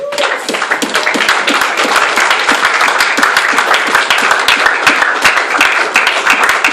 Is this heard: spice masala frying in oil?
no